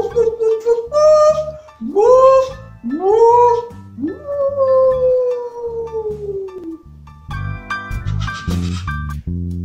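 A voice imitates a singing, howling dog in a series of rising, wavering howls, loud and close, the last one long and slowly falling, followed by a burst of laughter-like sound.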